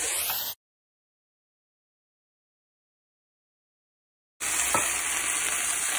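Ingredients dumped into a pan and mixed together produce a frying sizzle with stirring noise, heard briefly at the start and again after a long stretch of silence.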